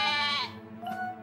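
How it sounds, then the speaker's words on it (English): A cartoon sheep gives a loud, close, wavering bleat that breaks off briefly and then resumes more faintly, with no voices over it. "Sam did say something about runaway sheep."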